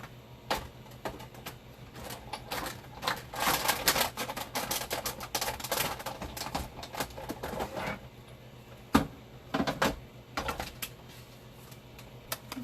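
Cutting a label shape from gray granite cardstock produces a run of quick, dry rattling clicks and cranks, close but quiet, with brief pauses between bursts.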